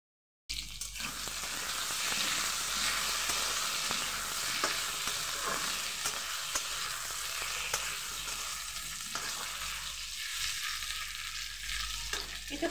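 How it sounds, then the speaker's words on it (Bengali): Potatoes fry in a pan for a jhinge aloo fish curry, making a continuous soft sizzle and crackle close by with occasional light stirring scrapes, and no voices. "আলুটাকে একটু কিছুক্ষণ ভেজে নেওয়ার পর দেখুন"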